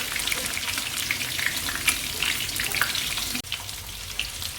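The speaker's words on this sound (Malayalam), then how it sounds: "മീൻ വറുക്കുമ്പോൾ കുറച്ച് കറിവേപ്പിലയായിട്ട് ഇട്ട് കൊടുക്കുകയാണെങ്കിൽ അതിൻ്റെ ഫ്ലേവറൊക്കെ ഇറങ്ങിക്കോളൂ" Fish fries in hot oil with curry leaves over a high flame, giving a constant crackling sizzle with small pops that runs close and steady throughout, with no one talking.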